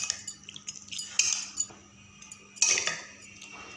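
Utensil scraping and clinking against a bowl while chicken is mixed with black pepper and coriander powder for a Hyderabadi chicken dish, with scattered metallic clinks and two louder bursts of stirring, close and fairly quiet.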